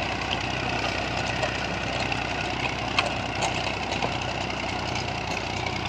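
A Massey Ferguson 35 tractor engine idles steadily, with a continuous low rumble and even throb that stays close and constant throughout.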